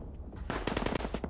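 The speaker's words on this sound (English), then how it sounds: "the enemy has at least a machine gun" Machine gun fire in the WW1 strategy game Dig In: a quick burst of rapid, sharp reports, several shots in fast succession after a brief lead-in, fairly quiet.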